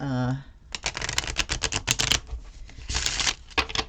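Tarot cards printed on stiff card stock are riffled and mixed by hand in quick, crisp flurries of papery flicks, close up, with brief pauses between bursts.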